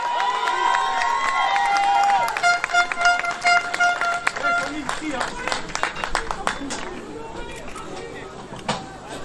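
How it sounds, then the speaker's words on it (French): Applause greets a lawyer at an outdoor rally against Zemmour and CNews, a burst of crowd clapping and cheers that thins into scattered claps, with a voice on a loudspeaker over the crowd. "Mesdames et messieurs, un tonnerre d'applaudissements pour Salim,"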